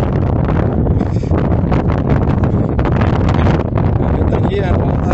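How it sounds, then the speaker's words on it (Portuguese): Strong wind gusts roar steadily and loudly across an outdoor loading site with a Scania 112 HS truck, a dense broadband rush filling the whole stretch with no pauses. "A ventania tá voando"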